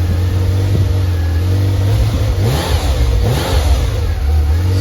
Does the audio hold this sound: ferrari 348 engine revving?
yes